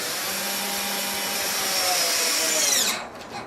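During wooden boat building, a cordless power tool with a dying battery runs with a steady high whine, then winds down and fades near the end.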